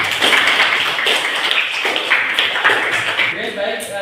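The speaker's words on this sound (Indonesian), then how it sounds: "Tepuk tangan untuk kelompok satu." A classroom group claps for the first group's presentation, a dense run of hand claps lasting the whole few seconds, fairly loud and steady with a little background chatter.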